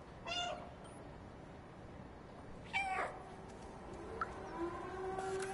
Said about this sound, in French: Ah, il aime bien mon miaulement.